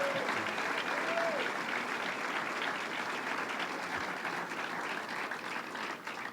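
A crowd at the opening of the 172nd Great New York State Fair in Syracuse claps in steady, dense applause that carries on throughout and tapers slightly toward the end.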